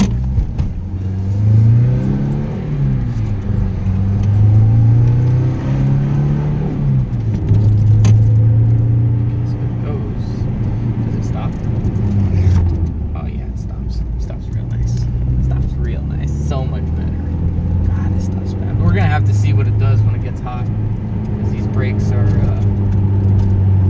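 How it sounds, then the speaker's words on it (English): A Nissan S13 car's engine runs and revs, with a steady low drone that rises and falls in pitch throughout, close and loud, while people talk over it. "Now there's a motor in it, so it runs"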